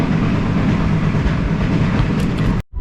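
A sleeper train in Egypt rolls along the tracks at night with a loud, continuous rumbling roar and steady rattle from inside the carriage, cutting off abruptly near the end.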